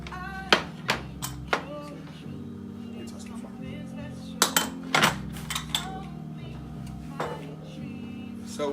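Fresh mussels clatter into a metal cooking pot and a lid clanks down on top, giving a series of sharp clinks and knocks against steady kitchen background noise.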